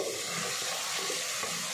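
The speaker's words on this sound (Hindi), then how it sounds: "मसाले डालते साथ ही हम थोड़ा सा पानी डालेंगे ताकि मसाले हमारे जले नहीं" Water poured onto spices in a cooking pot while making chicken pota, a steady rushing splash that runs continuously for under two seconds.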